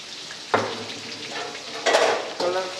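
Chicken karahi frying with salt in a Peshawar-style charsi karahi: a close sizzle that swells in three bursts as the pan is stirred, with faint utensil scraping.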